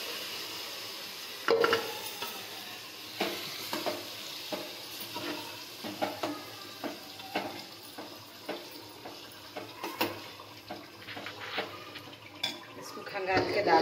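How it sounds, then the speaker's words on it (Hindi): Chicken sizzles in an onion masala in a pan, with repeated scraping and clinking stirring strokes over a soft, steady sizzle as a voice speaks intermittently. "अब ये पूरा चिकन इसके अंदर डाल दूंगी"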